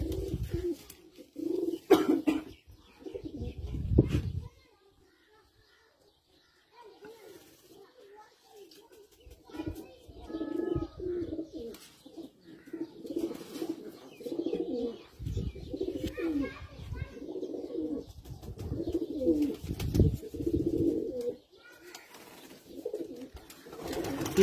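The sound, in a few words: Teddy flying pigeon cooing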